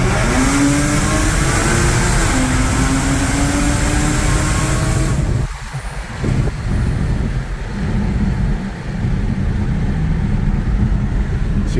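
A tuned Audi A6 3.0T with a 034Motorsport Stage 2+ tune accelerates with a loud, steadily rising engine drone and raspy exhaust, heard from inside the car with the windows partly down, then drops to a lower, rougher tone as the revs change.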